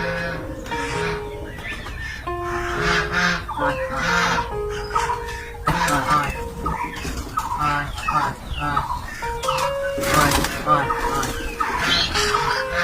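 A busy flock of pigeons coos and calls continuously in the morning as they are let out, with a burst of fluttering wings partway through.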